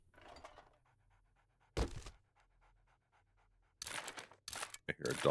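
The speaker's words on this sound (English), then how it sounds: "I hear a dog outside" A dog panting outside in the video game 7 Days to Die, soft rhythmic breaths repeating at a steady pace, moderately distant, broken by a few louder thuds and bursts of game noise.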